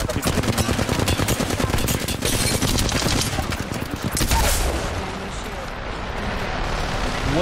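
Valorant gunfire in a match: dense, loud rapid bursts of automatic shots crackling nonstop for several seconds, then easing into a softer rumble, with voices talking over it.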